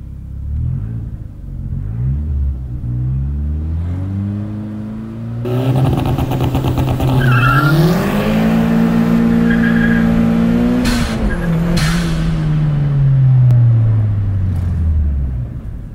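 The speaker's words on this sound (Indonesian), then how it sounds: "Kita coba launch control ya." A modified Toyota Starlet Kapsul with a GT Turbo upgrade and no limited-slip differential revs against launch control, then launches with loud wheelspin: engine pitch climbs and falls in long sweeps over a roaring, hissing rush of tire noise, with no talk.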